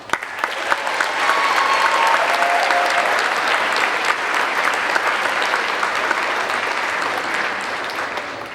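Audience at a graduation ceremony clapping, a loud sustained round of applause from a large crowd that swells and holds steady, then slowly tapers.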